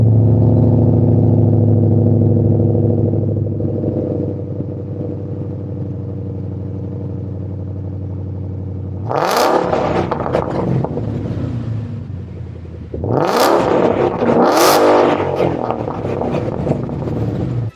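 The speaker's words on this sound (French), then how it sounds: "On a deux énormes sorties d'échappement inox avec une ligne qui, je pense, est à peu près libre." Ford Mustang West Coast Customs build with twin large stainless exhaust tips on a near-free-flowing line: a loud idle rumble gives way to sharp, aggressive revs, two bursts close to the microphone with no talking.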